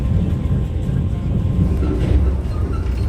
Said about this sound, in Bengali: 2 মিনিট এখানে হোল্ড দেওয়ার পর ট্রেন ছেড়ে দিয়েছে